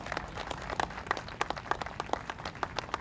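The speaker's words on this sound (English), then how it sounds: "giving yourselves a round of applause for showing up this morning" A morning gathering of people at an ocean-focused community event gives themselves a round of applause, light scattered clapping at a moderate distance, fairly faint and steady for a few seconds.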